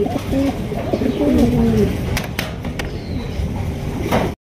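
Pigeons at a pigeon market coo in low, repeated throaty calls close by, over a busy background with a few sharp clacks and knocks.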